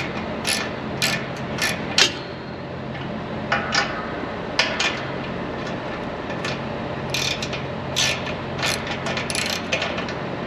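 A hand ratchet loosens bracket bolts on a Peterbilt truck, with repeated quick clicking bursts in irregular runs, close and crisp over a low background hum.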